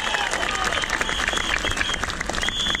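A protest crowd in Trafalgar Square, London, applauds healthcare professionals, with dense, steady clapping and cheering that stays loud throughout, mixed with crowd noise and a few whistles.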